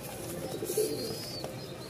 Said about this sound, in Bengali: রাজশাহীর কবুতর খুব ভালো উড়াবাজি আছে, যারা পছন্দ করেন এইসব কবুতর